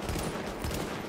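A 12 gauge shotgun fires in a video game, a loud, dense burst of blasts packed into about a second, close and harsh, with no talking over it.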